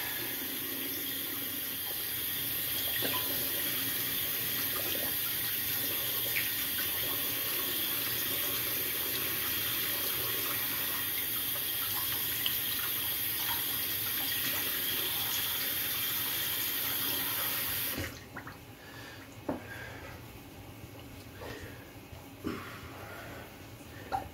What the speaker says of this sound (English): Let's get the brush rinsed out.